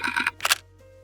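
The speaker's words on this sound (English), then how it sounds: "It's constant da da da da da da on the shutter" A camera shutter fires in quick succession during an engagement photo shoot: a close, crisp burst of rapid clicks, a brief pause, then a second shorter burst, with no voices.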